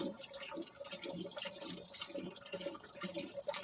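Acid solution being poured outdoors during gold refining of black gold fingers in a plastic cage, a faint, steady trickle and drip of liquid with light splashing, continuous and close.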